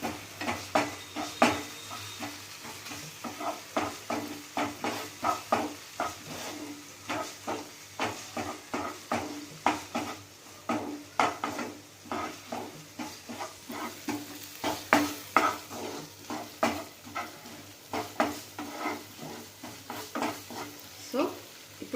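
Cabbage manchurian being stirred in a pan with soy sauce and tomato ketchup, giving steady scraping and clinking strokes over a low sizzle, repeated rhythmically throughout at close range.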